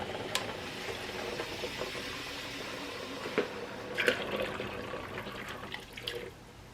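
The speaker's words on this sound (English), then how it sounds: "So I'm going to add some more water." Water poured from a tap or pitcher into pint jars of fried apples set for water-bath canning, a steady close running splash with a few clinks of jars, no talking.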